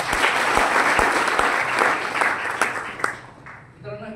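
Sustained audience applause at a business success seminar, a dense wash of many hands clapping that fades near the end as a voice begins speaking.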